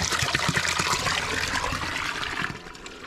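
Water rushes and gurgles steadily for a few seconds amid snow and ice, close and fairly quiet, with no voices.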